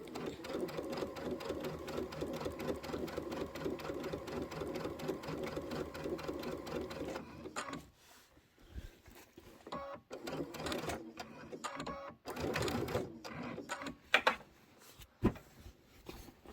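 A sewing machine stitching in the ditch along the seam of a Kimberbell Lucky Us pillow, a long steady close-up run of rapid stitches, then stopping and restarting in short bursts.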